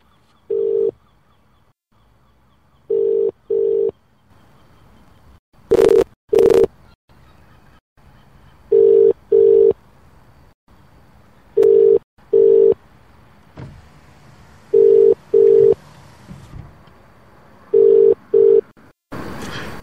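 A telephone ringback tone sounds during a call being placed back, in evenly spaced paired beeps repeating about every three seconds, loud and clear against a quiet, faintly hissy background with no talking.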